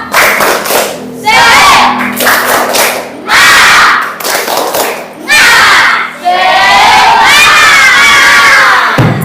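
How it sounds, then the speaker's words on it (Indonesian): Classroom group of students in Ponorogo doing a spirited clap chant, loud bursts of rhythmic clapping and shouted voices in several waves, with cheering and children's shouts rising between short pauses. "Tepuk semangat."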